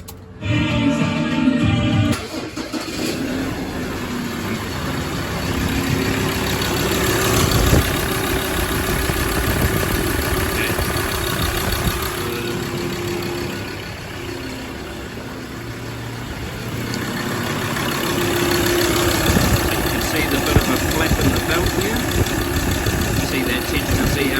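A Mazda BT-50/Ford Ranger engine runs at idle with a failing one-way clutch in its alternator pulley, making the belt tensioner jump back and forth. The close, loud mechanical drone holds steady throughout.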